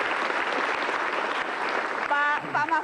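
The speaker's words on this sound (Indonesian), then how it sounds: "Saya kasih tepuk tangan, Mas Dewa." A studio audience on the Indonesian talk show Mata Najwa claps in a steady, full wash. A voice breaks through the applause near the end.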